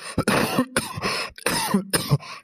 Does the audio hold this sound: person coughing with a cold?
yes